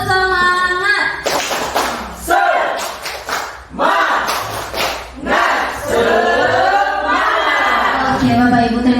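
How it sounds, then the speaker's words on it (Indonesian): Group of adults doing a rhythmic spirit clap at a late-afternoon training session, bursts of patterned clapping mixed with voices and chanting, loud and close with a steady rhythm. "Sekali lagi ayo Bapak Ibu. Tepuk semangat."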